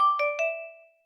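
A brief Xiaomi mobile phone ringtone: three quick bright chime notes stacked in rising steps, then a clean sustained tone that fades out within about a second, heard alone.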